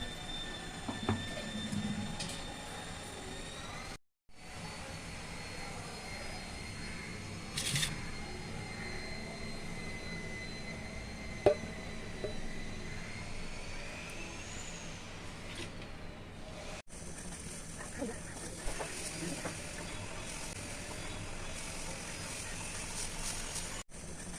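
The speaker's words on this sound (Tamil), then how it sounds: "ஒரு விசில் வந்துடுச்சுமா ஃபுல்லாக ப்ரெஷர் அடங்கட்டம்மா" A pressure cooker whistle shrills on and on over a steady hiss, a long, high continuous tone with a brief dropout partway through.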